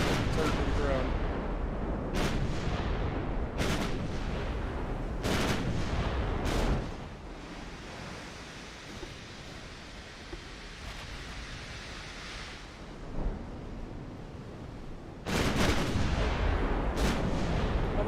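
Heavy naval gunfire from the warship game Ultimate Admiral Dreadnoughts booms in repeated loud salvos over a constant rumbling sea-and-engine roar, with a quieter lull in the middle before more shots land.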